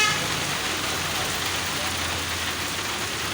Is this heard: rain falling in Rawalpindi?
yes